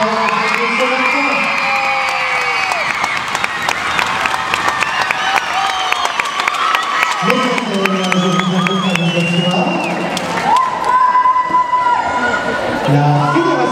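A crowd applauds and cheers gymnasts at a French ensemble gymnastics championship awards ceremony in Toulouse, with sustained clapping, whoops and shouts throughout and voices rising over the noise.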